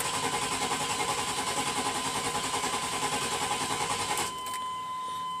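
A Jeep engine with its fuel pump disabled cranks over on the starter in a fast, even, chugging rhythm for about four seconds without firing, then cuts off, leaving a faint hum.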